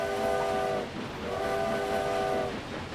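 A train horn sounds twice in the Railway Empire game, two sustained steady blasts, each about a second long with a brief gap between, loud over a low rumbling rail background.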